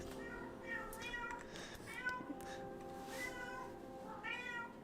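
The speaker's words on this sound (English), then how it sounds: "You can probably hear my cat mewing again in the background." A pet cat meows repeatedly in the background, several drawn-out mews rising over a steady low hum, with faint talking at times.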